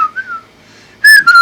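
A person whistles to call a cat named Orangey: a soft, wavering tone first, then a louder, brighter two-part whistle near the end, clear and close with no talking.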